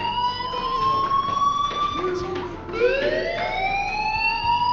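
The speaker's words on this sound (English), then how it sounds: "Hey, do you hear that fire alarm?" A fire alarm sounding in the Life Is Strange video game, a loud wavering electronic siren tone that sweeps steadily, dips briefly, then rises again, playing continuously with no voices over it.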